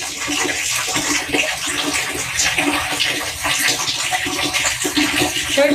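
Water running steadily during a bath, a continuous close hissing splash that fills the whole stretch without pause.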